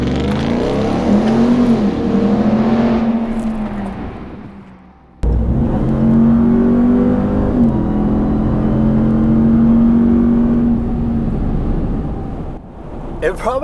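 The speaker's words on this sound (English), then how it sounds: "Press the brake hard, floor the throttle, release the brake, and the full-time active BorgWarner transfer case gets the power to the ground" A 2021 RAM TRX pickup truck with a full-time BorgWarner transfer case launches from a brake stand at full throttle, its engine roaring loud and close as it rises through gears, with a brief cut midway and a voice over the roar.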